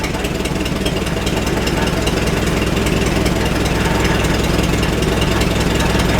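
An old Farmall tractor engine, left sitting for years, runs steadily close by, a loud continuous throbbing chug with a rough, even pulse and no pauses.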